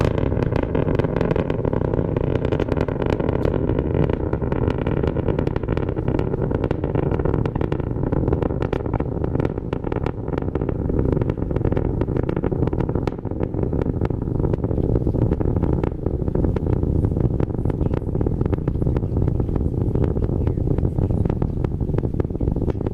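A SpaceX Falcon 9 rocket's engines roar continuously about one minute into flight, a deep rumble without pause, loud and steady with a crackling texture throughout, no voices over it.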